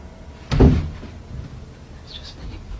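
A door bangs once, loud and close, with a dull thud and short rattle, followed by faint creaks and a quiet room in a paranormal house recording.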